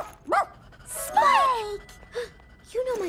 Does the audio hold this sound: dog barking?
yes